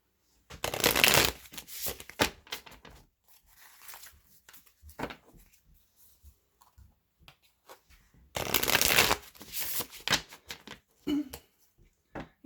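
Light Seers Tarot cards riffle-shuffled in two distinct bursts, the first and longer near the start and a second several seconds later, with quieter handling, tapping and card slides in between; no one speaks.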